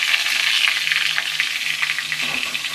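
Red amaranth stalks hitting hot oil with dried chillies give a loud, steady sizzle and crackle throughout, close and continuous, with a faint low hum underneath.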